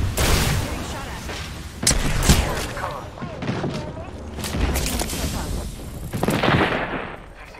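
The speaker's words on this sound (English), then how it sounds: "Getting shot at." Gunfire in Apex Legends on PS4 during a firefight: repeated loud bursts and booming shots spread through the stretch, with heavier impacts near the start and end, mixed with game effects and some voices.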